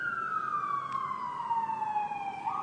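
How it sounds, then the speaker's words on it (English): An emergency vehicle siren passes during an outdoor press conference after the Monterey Park shooting, its steady wail sliding slowly downward in pitch as it moves away, loud and continuous with no talk over it. "the siren's going by"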